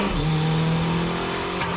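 Toyota MR2 engine droning steadily as the car drifts into a corner, a constant close mechanical hum with no talk.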